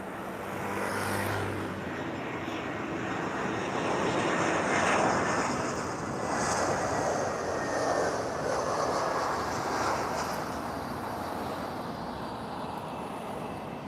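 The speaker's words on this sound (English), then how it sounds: "Landing coming through. Looks like an EasyJet. And it is an EasyJet." An EasyJet passenger jet landing at Lisbon airport, a steady broad engine roar that swells and fades slightly as the aircraft passes, loud and continuous throughout.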